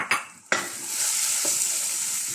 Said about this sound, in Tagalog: Mas masarap pag nagigisa ng mabuti ang ating tomato paste.